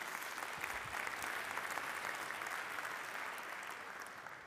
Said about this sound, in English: Then I want you to give him a round of applause.